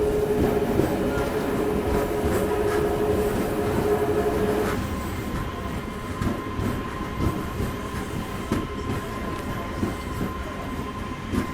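MEMU passenger train running between Vijayapura and Hubballi, heard from inside as a constant loud rumble with a high motor whine that drops away midway, leaving rattling wheel clatter and track noise.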